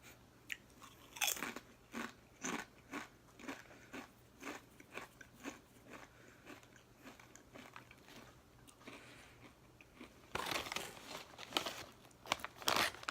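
Turkey and gravy flavored chips from 7-Eleven being crunched and chewed up close, with a steady run of crisp bites and wet chewing, then loud crinkling of the chip bag near the end.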